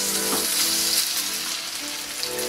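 Lamb pieces for Mongolian lamb frying in a very hot wok, making a loud, continuous, dense sizzle and crackle that holds steady throughout without any voices.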